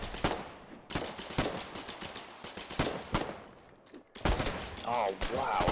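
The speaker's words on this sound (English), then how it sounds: "Someone get the guy that's shooting me." Gunfire from the online war game Foxhole (update 31) crackles in bursts of rapid shots, mixing single cracks with machine-gun fusillades, loud and near, with brief gaps between volleys.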